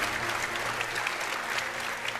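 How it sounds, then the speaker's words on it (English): Steady applause from an audience at an Age of Empires tournament, a dense even patter of clapping hands continuing throughout. "One more round of applause for the people who make this possible."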